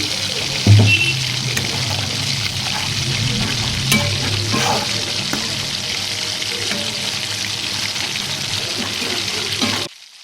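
A paste of tomato, cumin, ginger and green chili hits hot oil in a wok with a loud burst, then keeps up a strong continuous hiss and sizzle up close for about ten seconds, with no talking.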